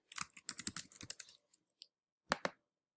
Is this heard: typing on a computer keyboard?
yes